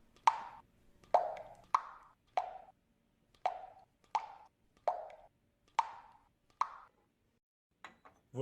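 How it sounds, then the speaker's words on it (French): A slow series of about ten small drops of sodium hydroxide solution falling into test tubes, each a soft, close plop with a brief ring, spaced irregularly in a quiet room. "verser 10 gouttes de soude dans chaque tube à essai"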